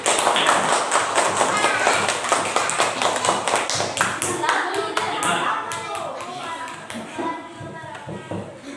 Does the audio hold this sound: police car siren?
no